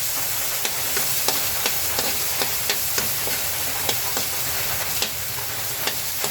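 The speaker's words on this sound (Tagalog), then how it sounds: "lahok-lahok na ito sibuyas, bawang at luya igigisa po para medyo mabango po" Onion, garlic and ginger sauté in a hot pan with a steady, close sizzle, while regular stirring scrapes tick through it about every half second.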